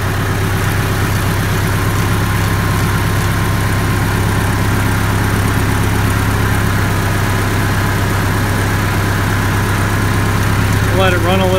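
A Case IH 85 Series tractor diesel engine idles steadily after sitting unused for months, a loud, continuous low rumble with even vibration throughout, and no one speaks over it.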